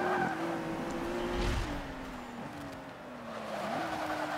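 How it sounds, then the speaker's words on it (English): Rolls-Royce Wraith in Forza Motorsport 5 spinning its wheels, the engine droning steadily with pitch rising and dropping at gear shifts, tire squeal woven through the sustained game audio. "Wheel spin does get annoying, but just get through that like gear 3 or gear 4."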